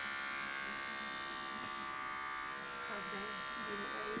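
Electric hair clipper running steadily as it passes over a head, a close, continuous buzz that holds for the whole stretch while a voice talks over it.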